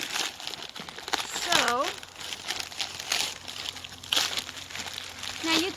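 A plastic bag crinkles and crackles close up as frozen pine pitch is peeled off it. The rustling comes in several bursts, with a person talking over it throughout.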